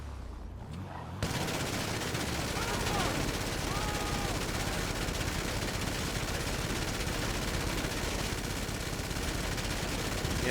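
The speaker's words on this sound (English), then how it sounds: "See how powerful the machine guns are." Machine guns mounted on an Ardent car in GTA fire in a continuous, dense, loud rattle that holds steady for about nine seconds after a brief quieter start.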